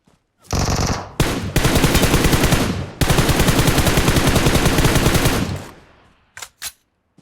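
Loud bursts of automatic machine gun fire from the battle royale game PUBG Mobile rattle in long rapid strings with short gaps, ending in a couple of brief final shots.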